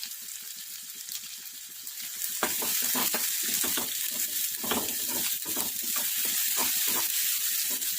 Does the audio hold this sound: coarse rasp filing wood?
no